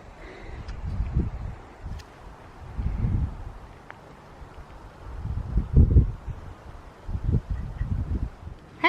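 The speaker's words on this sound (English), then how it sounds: "it's so windy outside and you probably wouldn't be able to hear a single thing" Strong wind gusting around a tent on the Pacific Crest Trail, low rumbling buffets swelling and fading in uneven surges with faint flapping between them.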